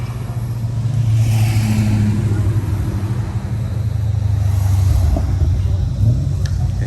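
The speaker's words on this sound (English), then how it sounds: "as I'm talking we've got some more cars coming. They just keep rolling in." Cars rolling into a Coffee & Cars monthly meeting in Bonville, including Commodores, with a steady low engine rumble and slow revving from nearby vehicles amid outdoor ambience.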